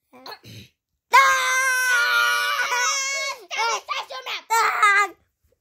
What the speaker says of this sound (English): Please wait while they scream.